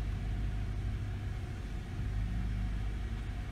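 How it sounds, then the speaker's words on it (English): Toyota Tundra pickup, one that stalls while driving, idling low and steady as it backs out for a test drive, a continuous close engine rumble with no talk. "We're gonna go ahead and back out and take this thing for another quick test drive."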